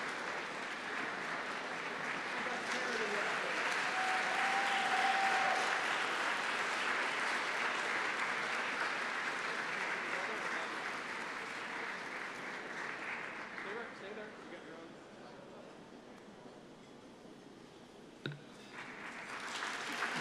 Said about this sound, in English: Sometimes there is cheering in the press box.